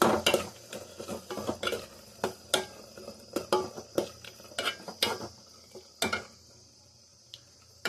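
A spoon scrapes and clanks against a pan as carrot and beetroot halva is stirred, irregular sharp knocks and scrapes at a quick, uneven rhythm, close up with no voices.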